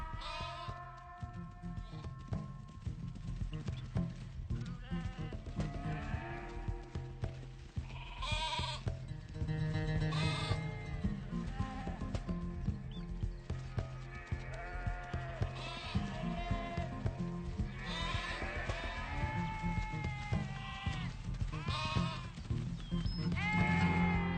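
A flock of sheep guarded by donkeys bleats repeatedly, with several overlapping calls near and farther off, continuing steadily throughout over a quiet outdoor background.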